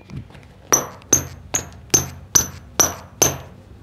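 A Mills Troya football shoe knocked against a hard surface, giving seven sharp, evenly spaced knocks with a bright ringing tone and quick decay, close and alone.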